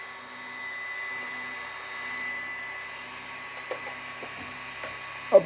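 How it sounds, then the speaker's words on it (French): A 3D printer, heated to about 200 degrees, hums and whirs steadily as it begins a print, a continuous tonal motor drone with a few faint clicks and one sharper tap near the end, no voices. "notre imprimante est parti"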